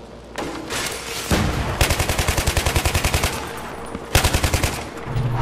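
Light machine gun on a bipod firing in Battlefield 3, loud rapid bursts of evenly spaced shots, two sustained strings with a brief pause between, close and dominant.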